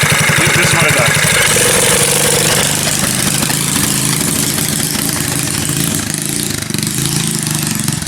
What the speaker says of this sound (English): once you try to go full throttle on it, it just sputters